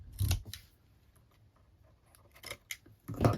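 Scissors snip through 12 x 12 patterned paper while trimming a handmade gift bag: a couple of crisp close cuts at the start and end, quieter rustling between, no talking.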